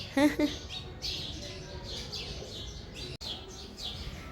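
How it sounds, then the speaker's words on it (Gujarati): Sparrows chirp in a home courtyard, a cluster of bright tweets at the start followed by a steady backdrop of overlapping bird calls at moderate distance. "જોઈ શકો છો ચકલી કેટલી બધી આવી ગઈ છે"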